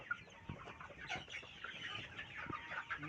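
Sonali hybrid chickens on a farm cluck and call in short, overlapping bursts, with a rooster among them, a busy flock sound at close range without any speech.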